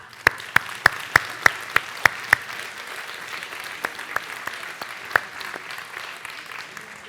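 A modest crowd at a mayor's New Year address claps for young club members, with a few loud, evenly spaced nearby claps over a softer, thinner patter that fades out.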